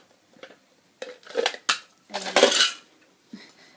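Small metal pin backs clink and rattle inside a tin in a few short, irregular bursts, close by and fairly quiet.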